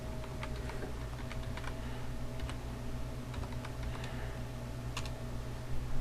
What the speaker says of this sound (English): in the address bar, you would type www.